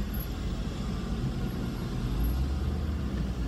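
A car creeps along slowly in traffic, heard from inside the cabin as a steady, muffled low rumble of engine and road noise, with no talking.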